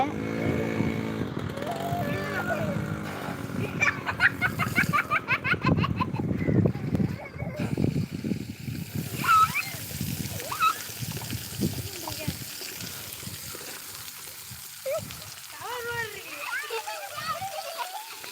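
Water gushing and splashing steadily like a heavy downpour, with children's voices and chatter mixed in throughout.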